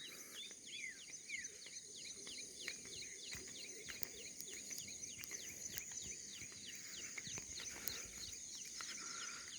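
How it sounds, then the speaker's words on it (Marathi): Many small birds chirp and twitter in quick repeated calls at early morning in a rural village, against a steady high insect drone, an open outdoor chorus at moderate distance. "पक्ष्यांचा किलबिलाट सुरू आहे"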